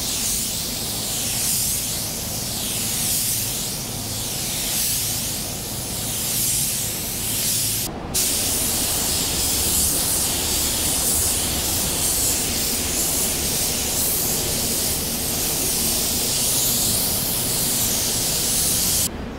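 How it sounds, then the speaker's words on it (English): A DV1 spray gun running at about 14 to 15 PSI lays base coat paint onto a car fender, giving a loud continuous airy hiss that holds steady throughout, with one brief break near the middle. "The gun of choice once again is gonna be the DV1 because of the low overspray and just puts the paint down really nice."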